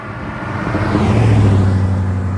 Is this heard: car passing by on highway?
yes